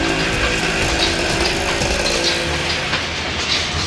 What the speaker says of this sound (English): This guy's got the old school printer.